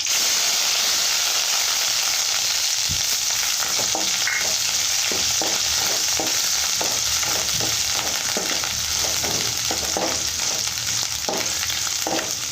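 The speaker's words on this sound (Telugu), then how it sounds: "ఇది పచ్చివాసన పోయిందాక కాసేపు వేయించుకోవాలి" Ginger paste with dry red chillies and garlic fries in a pan, a loud constant sizzle and hiss with a steady series of soft spatula scrapes and taps through the middle.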